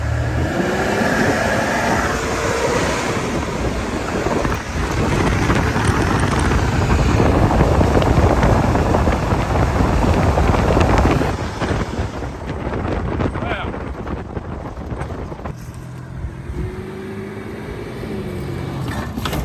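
Toyota Prado rumbles fast across rough farm ground with heavy wind buffeting the microphone, a loud sustained roar that drops away near the end, with a voice briefly audible.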